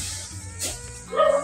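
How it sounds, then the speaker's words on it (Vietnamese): A dog gives a short bark and then a higher yelping cry, fairly close by, with low background rumble underneath. "Ai vậy? Sủa ai vậy?"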